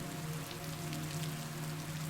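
Steady rain falling outside a cafe, a soft continuous patter of drops on surfaces with a faint low hum beneath, even and unbroken throughout.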